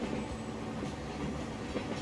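A BR 103 train in Transport Fever 2 running along rails near a tunnel and station, with a steady rolling rumble and faint rhythmic clatter from the wheels, continuous and fairly close with no talk.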